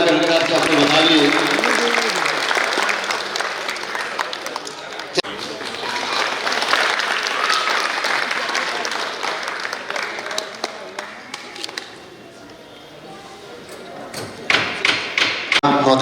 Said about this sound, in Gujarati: જોરદાર તાળીઓના ગણગણાટથી આપણે વધાવીએ.